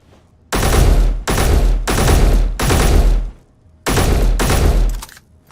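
Video game gunfire in five long, loud automatic bursts separated by short gaps of near silence, close and harsh, with no talk over it.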